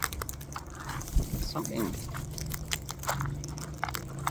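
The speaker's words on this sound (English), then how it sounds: "You're chewing on my ear." A parrot nibbles and chews on a person's ear, giving close, soft crunchy biting sounds in short bursts while a person talks throughout.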